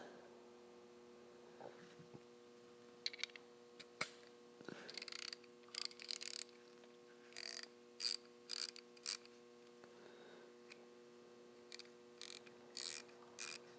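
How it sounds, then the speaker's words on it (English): A Nepros 3/8-inch ratchet is worked in short bursts of fine, rapid clicking, quiet and close, separated by pauses over a steady low electrical hum. "Super low back drag on this ratchet as well."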